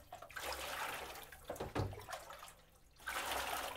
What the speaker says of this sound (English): So I'm literally just washing all the chemicals off.